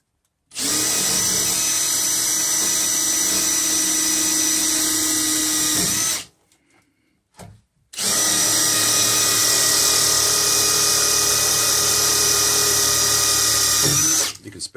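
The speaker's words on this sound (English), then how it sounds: "Frank's going to drill some holes" A power drill bores holes in a van body, running loud and steady for about six seconds, pausing briefly, then whining again for about seven more seconds, mostly alone without talk.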